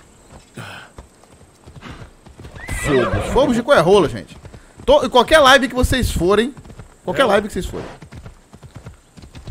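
Horse hooves clip-clopping at a gallop, with a whinny, from the Assassin's Creed Odyssey video game, playing under steady talk by a commentator.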